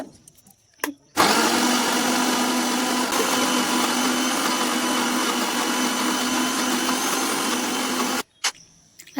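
A kitchen mixer grinder runs for about seven seconds, a loud steady whirring motor pureeing ridge gourd peel with salt into a paste, starting and stopping abruptly with brief clicks before and after.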